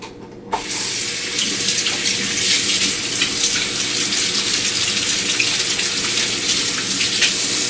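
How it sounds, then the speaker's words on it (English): Water from a kitchen tap runs steadily into a sink as hands are rinsed under it, a loud continuous splashing rush that starts suddenly and holds without any talking. "I'm going to give my hands a quick wash"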